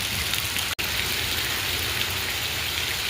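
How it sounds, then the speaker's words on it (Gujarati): Heavy rain pours down in a dense, constant hiss, close and loud, with a split-second dropout near the start; no one speaks. "કેવો વરસાદ આવે હું બતાવું તમને"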